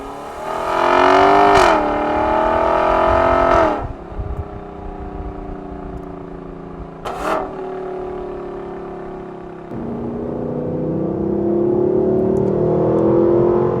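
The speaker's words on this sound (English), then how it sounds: "I don't know how they've managed to tune the exhaust to sound so mournful and so tuneful" A sports car engine revs hard through a tuned exhaust, loud and close, with rising and falling tuneful sweeps, sharp gear-change breaks, then a long sustained climbing drone, no talk.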